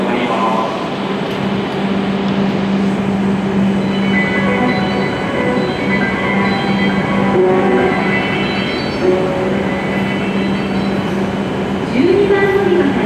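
An E7 series Hokuriku Shinkansen train rolls into Kanazawa Station with a sustained mechanical rumble and whirring hum, a constant drone close by while a platform announcement carries over it.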